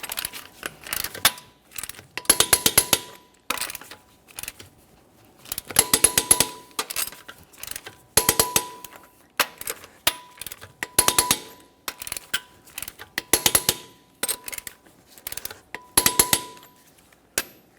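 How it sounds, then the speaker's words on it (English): Torque wrench tightening the front wheel lug nuts of a 2017-2024 GMC Acadia in a crisscross pattern, heard as a series of sharp metallic clicks and clinks arriving in short bursts with quiet gaps between them. "We're going to torque both side front wheels to 140 in a crisscross manner"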